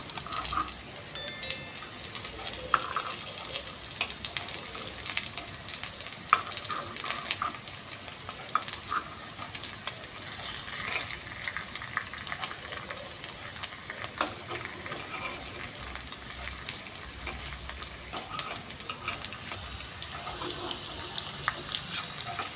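Oats paniyaram frying in a paniyaram pan as the pieces are turned over, steady close sizzling with scattered light scraping and tapping clicks throughout, no talk.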